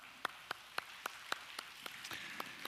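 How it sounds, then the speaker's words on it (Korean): Single sharp claps fall in a slow, even rhythm at a church new-members' worship service, each hand clap distinct and fairly faint against a quiet room. "여러분에게 제가 위로와 격려의 박수를 보내겠습니다."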